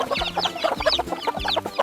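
A cartoon rooster on a farm crows and clucks in quick repeated bursts, close and lively, over low musical tones.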